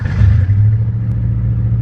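Lifted Ford Bronco with a three-speed transmission idling and revving on a test drive, a steady low engine rumble with a brief swell in the first half second.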